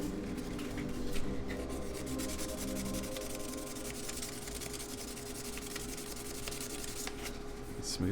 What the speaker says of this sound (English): Grab a little sandpaper.